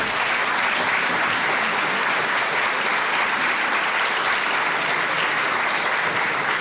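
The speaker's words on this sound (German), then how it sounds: "Applaus" Loud, dense applause from guests at a university ceremony with an investiture, a continuous roar of many hands clapping at even strength from start to end, with no talking.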